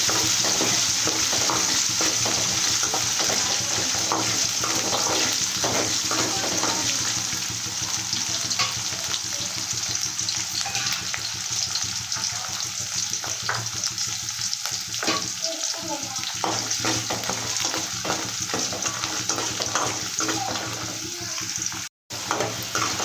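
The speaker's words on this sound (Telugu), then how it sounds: "సన్న మంటన ఒక ఐదు నిమిషాలు వేగనిచ్చినానండి" Ingredients frying in oil over a low flame while making Telugu-style lemon rice; a dense, close sizzle continues for the whole stretch with frequent stirring scrapes and one brief dropout near the end.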